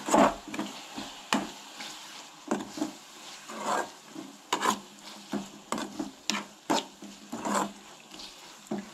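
A wooden spoon scrapes and stirs a fried onion mixture with garam masala in a pan for Goan prawn biryani, giving repeated soft rubbing strokes with light sizzling between them, close and alone.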